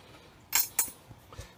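Metal drill bits clink lightly as they are picked out from a set: two quick, bright clinks close together, then a fainter tap, all quiet and close with no talking.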